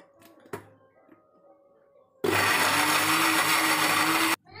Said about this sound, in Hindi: तो अब इसको हम चला लेंगे मिक्सी जार को,